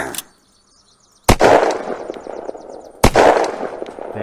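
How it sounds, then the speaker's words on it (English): Two sharp sniper rifle shots fired at zombies in the video game Unturned, each a loud sudden crack with a short ringing tail, separated by a pause of nearly two seconds, preceded by a brief fainter click. "Just gonna snipe some zombies."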